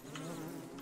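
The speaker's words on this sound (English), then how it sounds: "Now there's just angry bees everywhere." Angry bees buzzing in the video game Don't Starve Hamlet, a continuous droning hum, faint and unbroken over its brief span.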